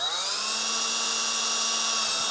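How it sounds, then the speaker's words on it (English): A power drill runs steadily at high speed, boring a mounting hole in a 2023 Nissan Frontier, one continuous loud whine that holds its pitch throughout. "4 holes total we have to drill."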